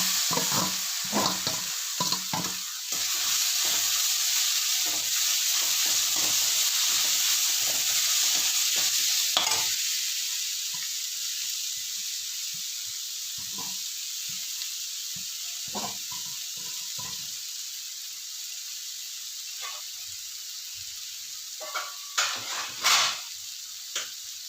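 Curry leaves and raw mango sizzle in hot oil in a frying pan, with steady frying hiss and scattered stirring clinks and scrapes, louder at first, then quieter.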